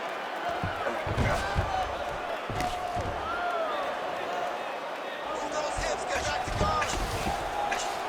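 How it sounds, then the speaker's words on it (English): A virtual arena crowd in EA Sports UFC 5 roars and cheers steadily through the stretch, with a broadcast-style voice talking over the noise. "big pop from the crowd as they get back to their feet"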